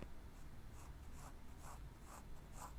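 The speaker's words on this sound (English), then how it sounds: "Using the point of my pencil for this part." Pencil strokes scratch across paper as fine details are drawn with the point of a darker pencil, coming as a steady run of short, close, rhythmic scrapes over a soft background hiss.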